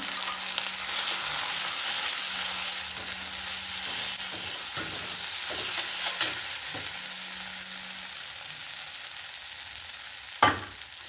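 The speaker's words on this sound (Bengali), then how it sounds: "এটা নেড়ে চেড়ে নেবো।" Fried onion mixed with poppy seed paste is stirred in a pan, giving a steady close sizzle with soft spatula scrapes at intervals and a sharper knock near the end, with no talking.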